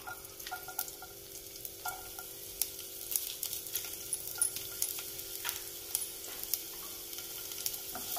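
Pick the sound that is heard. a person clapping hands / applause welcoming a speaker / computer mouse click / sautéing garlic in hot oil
sautéing garlic in hot oil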